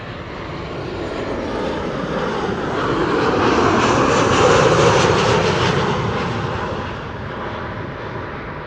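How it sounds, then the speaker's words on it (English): A 26-year-old KLM Boeing 737-800 jet, first flown in 1999, arriving at Amsterdam Schiphol: a loud, steady engine roar that swells toward the middle and eases off near the end, with no talk. "It is KLM Flight 938 arriving from Glasgow, 737-800."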